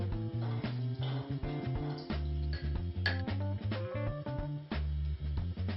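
Spoon clinking and scraping against a jar as lemon zest is stirred and pressed for homemade limoncello, a quick irregular series of close, bright knocks and clinks over a faint musical bed.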